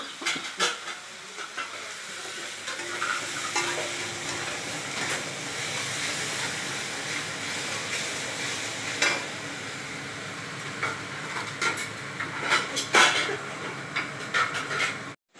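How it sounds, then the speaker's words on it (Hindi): Onion, garlic, chilli and ground spices fry in a pan for a rohu fish curry with mango, a soft continuous sizzle broken by irregular stirring scrapes and clinks of a spoon against the pan. "अब यहाँ पर सारे मसालों को मैं फ्राई करूँगी"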